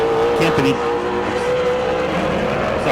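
Super late model race car on a qualifying lap at New Smyrna Speedway, a loud droning engine roar with shifting pitch as it circles the oval, under continuous commentary from announcers.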